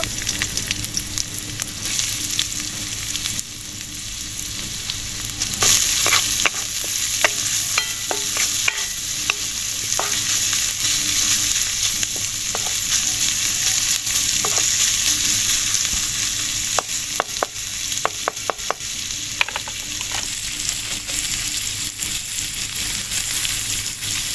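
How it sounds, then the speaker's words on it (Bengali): Chopped onion sizzles steadily in hot oil for a paratha filling, a loud, continuous frying hiss broken by scraping stirs and clinks of a spatula in the pan. "এর মধ্যে আমি পেঁয়াজ কুচি দিয়ে দেবো"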